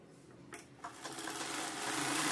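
Sewing machine stitching short tucks on a girl's cotton crop top blouse, starting after a quiet moment and building into a steady, continuous whir that grows louder and closer toward the end.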